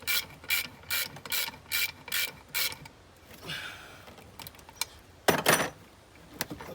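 Ratcheting spanner or socket wrench clicking in short rhythmic bursts while working a bolt on the intake manifold of a Ford Falcon XR8 Tickford, close and fairly quiet, with a brief metallic scrape and a couple of later clicks.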